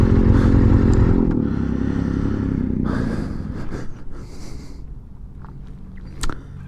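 A 2017 KTM 1290 Super Duke GT ridden hard gives a loud, close, deep engine roar for about three seconds, then falls away into wind rush and scattered clatter.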